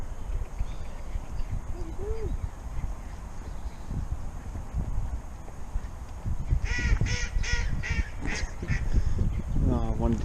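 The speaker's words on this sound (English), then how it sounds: "Canadian geese." Canada geese honk on castle grounds, a burst of repeated nasal calls rising out of a noisy outdoor background in the second half, with a brief voice earlier.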